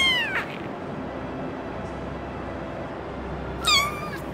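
A kitten gives two short, high meows several seconds apart, one at the start and one near the end, over a steady background hiss.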